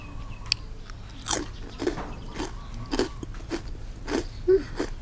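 Crispy baked vegetables being bitten and chewed up close, a series of about eight distinct crunches in a loose rhythm, each a short sharp crackle over a quiet background.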